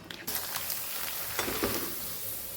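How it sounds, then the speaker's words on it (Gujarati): Papads made from wheat and rice deep-frying in hot oil give a steady loud sizzle and crackle, with a brief clatter as they go in. "આપણું તેલ ગરમ થઈ ગયું છે તો હવે આપણે 2 પાપડને તળી લઈશું."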